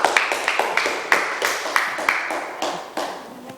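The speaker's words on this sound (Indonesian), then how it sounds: "Berikan tepuk tangan untuk kelompok mulut." Students in a classroom applaud their winning group with brisk, uneven clapping from a small crowd, nearby and moderately loud, a few seconds of rhythmic claps with no talking over it.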